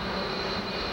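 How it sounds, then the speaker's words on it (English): Jet dryer on an oval track at the 1996 CART US 500 blowing Speedy Dry absorbent off the racing surface, a loud continuous turbine roar with a steady whine, close and unbroken. "passing the jet dryer that blows the Speedy Dry off the track"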